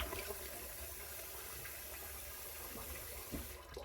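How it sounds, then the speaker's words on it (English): Cold tap water runs steadily from a bathroom faucet for rinsing soap off the face, a continuous close hiss and splash with small splashing bursts throughout. "Then I'm going to run a little cold water and"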